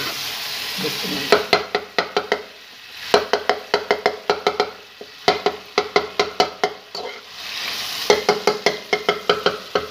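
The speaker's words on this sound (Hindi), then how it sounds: "अब क्या करना है, इसे अच्छी तरह से इसकी भुनाई कर लेनी है।" Peeled tomatoes and meat frying in a karahi for a Shinwari chicken karahi, with a sizzling bed broken by rapid bursts of rhythmic scraping and stirring strokes against the pan, pausing briefly between runs.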